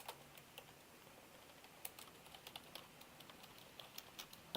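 Typing on a computer keyboard, a quiet run of irregular key clicks with occasional louder taps, close to the microphone and alone without talk.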